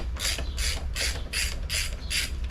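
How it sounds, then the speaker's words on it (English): An 8mm socket ratchet loosening the intercooler shroud bolts on a car, five or six sharp rhythmic clicking strokes, close and clear, with no talk over them. "we're putting this 8mm on and taking these bolts out to the shroud"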